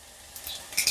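Chopped onions fry in a pan until soft for Andhra-style masala pappu dal curry. A soft, steady sizzle builds into a couple of brighter crackling bursts near the end, with no talking.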